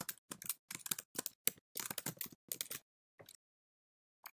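Typing on a computer keyboard, a quick run of close, crisp key clicks in uneven bursts that trails off into a few final taps, quiet and alone.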